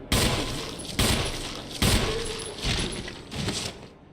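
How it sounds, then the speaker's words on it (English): Gunshots ring out in the video game Resident Evil HD, five evenly spaced loud blasts about a second apart, each with a sharp attack and a fading tail, with no talk over them. "I'm gonna shoot it."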